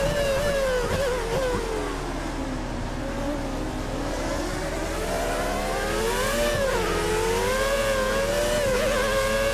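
Formula 1 race car engine in the F1 2013 video game, racing at Montreal: a continuous high-pitched engine scream that rises and falls with gear changes and throttle, loud and steady throughout, no talking.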